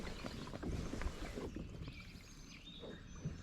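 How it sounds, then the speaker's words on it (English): A kayak paddle dips and splashes softly on a lake in the Pine Barrens of New Jersey, with faint water swishes under light wind noise, fairly quiet and close. "We're going to be paddling up this lake."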